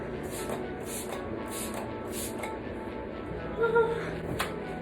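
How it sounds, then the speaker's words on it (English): MAC Fix Plus Magic Radiance setting spray is misted onto a face in four or five short, evenly spaced hissing bursts, close and soft, with a brief voice near the end. "I'm going to finish up with the MAC Fix Plus Magic Radiance setting spray."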